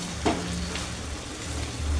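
Boiled chicken and potatoes being stir-fried in a pan for chicken curry: an even, close sizzle with a couple of quick stirring scrapes early on.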